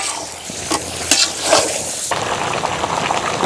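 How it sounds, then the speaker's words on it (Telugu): Chicken simmering and bubbling in a pot for fry piece biryani, a close, steady sizzle and boil with scraping stirs, and no talk. "చికెన్ బాగా ఉడుకుతుంది."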